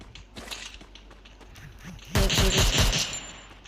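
Rapid automatic gunfire from the mobile game Free Fire rattles in a dense burst, rising loud partway through over a steady game background hum and scattered earlier shots.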